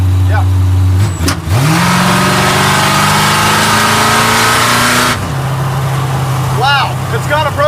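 A 1940 Ford engine idling, then revving hard for several seconds before settling back to a steady idle, loud and close, with people talking over it.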